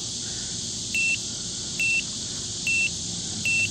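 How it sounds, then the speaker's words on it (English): A Minelab ProFind pinpointer beeps while its sensitivity is adjusted, giving four short, evenly spaced electronic tones over a steady hiss. "once you push it and you get a longer drawn out beep, that means it's at the extent of how much you can change it"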